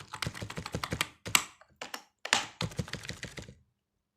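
Keys on a computer keyboard clatter in quick bursts of typing, with short pauses between the runs of taps. The sound is close and fairly quiet, and no one speaks.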